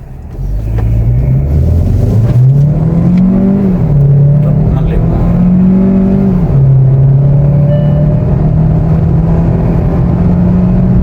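A Kia Seltos 2026 Gen 2 turbo petrol car accelerating on a road test, its loud, close engine drone climbing in pitch with brief dips at gear changes, then holding a steady roar.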